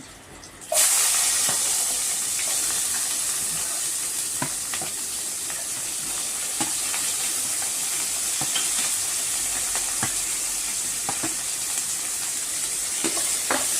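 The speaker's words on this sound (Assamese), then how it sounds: "পিঁয়াজখিনি ধুনীয়াকৈ ভাজি ল'ম" Onions tossed into a pan where chicken has just been fried for masala chicken, starting with a sudden burst of loud sizzle that settles into steady hissing frying with soft stirring clicks, no talking.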